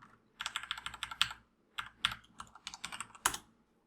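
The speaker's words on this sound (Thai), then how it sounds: "จากนั้นก็พิมพ์ชื่อว่า close button แล้วกันเนาะ" Typing on a computer keyboard, close and fairly quiet, with bursts of rapid key clicks separated by short pauses.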